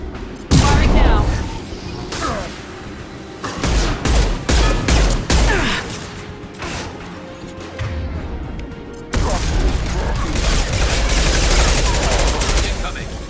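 Rapid gunfire crackles through a battle in the Mass Effect 2 video game, dense bursts and booms with brief lulls, loud and close, while voices call out amid the shooting.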